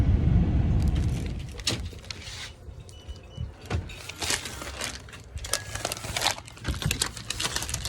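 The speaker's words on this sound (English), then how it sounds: "We're in the car skedaddling home." Car cabin noise while driving, a low engine rumble at first, then scattered clicks and rattles over a quieter steady road hum.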